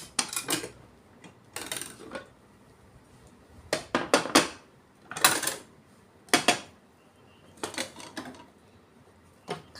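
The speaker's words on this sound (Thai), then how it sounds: "อันนี้ก็จะตักข้าวนะคะทุกคน" Cooked rice being scooped in a home kitchen, with sharp clinks and clatters of dishes and utensils coming in short separate bursts amid quiet pauses.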